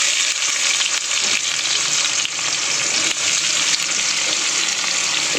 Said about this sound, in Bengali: গরম মশলাটা একটু তেলের মধ্যে লাল হয়ে গেছে, আমি এবারে দিয়ে দেবো কুচানো পেঁয়াজ